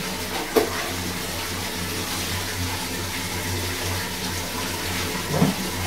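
Water runs steadily, splashing and trickling close by while a baby is rinsed during a bath, with a couple of brief louder splashes near the start and end and no speech.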